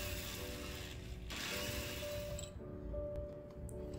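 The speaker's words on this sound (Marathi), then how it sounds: "आता हे मिश्रण आपल्याला मिक्सरला लावून घ्यायचं आहे।" An electric mixer grinder grinds a traditional tambul digestive mixture, giving a steady whirring hum with a faint mechanical rattle that holds evenly for a few seconds.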